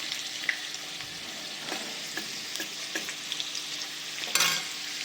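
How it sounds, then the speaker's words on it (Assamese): Pieces of wood potato (yam) fry in a pan with a steady, close sizzle, broken by occasional sharp crackles and pops and one brief louder burst near the end. "এইখিনি ভাজি আছোঁ"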